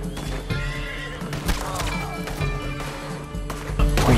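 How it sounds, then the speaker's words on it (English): A white Arabian horse in the Red Dead video game neighs loudly in a long, shrill whinny, mixed with hoof clatter and game sounds and ending in a louder burst. "Oh yes, this is a white Arabian horse."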